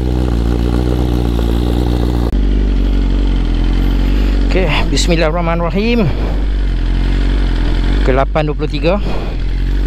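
A Ducati V4S motorcycle engine runs with a steady, loud idle drone throughout, while someone talks over it.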